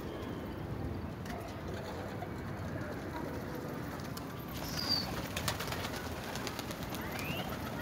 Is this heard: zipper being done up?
no